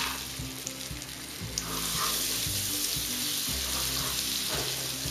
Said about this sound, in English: now I'm going to add in my butter, it is going to froth up really well